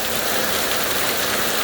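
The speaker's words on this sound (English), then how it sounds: "We have not stopped getting rain." Heavy rain pours down steadily in a dense, loud, unbroken hiss with no pauses and no voices.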